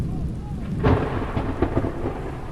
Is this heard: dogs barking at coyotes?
no